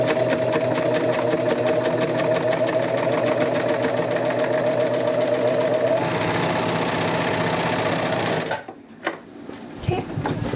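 A serger stitches layers of winter hat fabric while its cutter knife trims the edge, a loud steady mechanical whir with rapid needle chatter that runs for several seconds before stopping abruptly.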